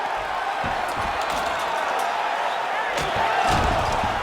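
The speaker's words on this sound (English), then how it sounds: "crowd pops as she reverses position" A UFC crowd roars and cheers steadily in an arena as a female fighter reverses position on the mat, with a sustained wash of crowd noise, scattered sharp smacks and thuds, and a swell in the noise near the end.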